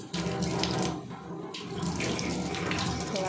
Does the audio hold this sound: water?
yes